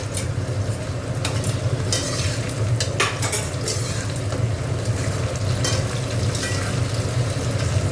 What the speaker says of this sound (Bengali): দেখো এখানে টমেটোটা দিয়ে দিলাম।